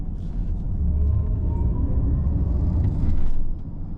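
Inside a 2024 Mercedes-Maybach EQS SUV electric vehicle, a synthetic drive sound called Aerial Grace plays as a deep, smooth, swelling hum that rises briefly before easing off.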